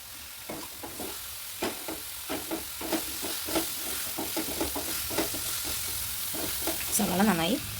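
Sliced onion frying in a pan for a Kerala tomato sardine curry, a soft continuous sizzle punctuated by regular stirring scrapes, close by, with a brief voice near the end.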